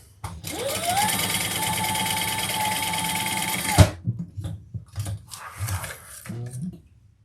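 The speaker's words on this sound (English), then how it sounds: "we're going to turn that over and top stitch on the bottom" A sewing machine runs in one steady, whirring burst of about three and a half seconds while top stitching along the bottom of a fabric bag, then stops, followed by soft handling clicks and rustles.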